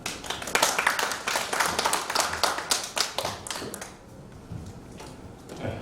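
A small audience claps to welcome a speaker, a run of clustered, close handclaps that thins out after about four seconds, leaving only a few scattered claps.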